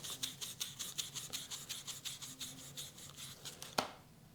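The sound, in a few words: sandpaper rubbing the tip of a ceramic-bearing motor shaft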